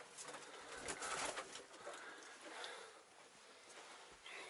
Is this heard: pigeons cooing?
yes